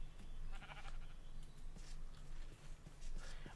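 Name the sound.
sheep bleating in Minecraft (RLCraft), a video game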